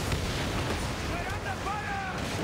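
Naval battle in Assassin's Creed Origins, with a constant roar of cannon and gunfire between ships, booms blending into a dense wash and shouting voices over it.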